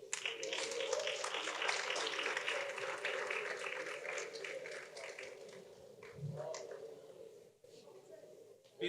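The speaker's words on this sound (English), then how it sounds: "Please give her another round of applause" Audience applause at a debate event, sustained clapping from a crowd that gradually thins and fades, heard at a moderate distance with a faint voice near the end.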